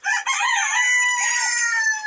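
A native Bangladeshi rooster from a small backyard flock crows loudly and close up, one sustained cock-a-doodle-doo call filling the whole moment with no talk over it.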